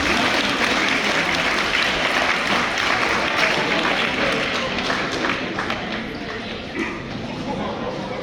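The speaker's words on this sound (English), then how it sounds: "let's give another big round of applause for our Rosary Warriors" Sustained applause from a banquet crowd honoring the Rosary Warriors track and field team, dense clapping filling the room for the whole stretch and easing slightly toward the end.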